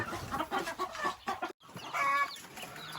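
Young chicks and ducklings on a farm give a steady stream of close, high peeping chirps and soft clucks, with a brief silent gap midway.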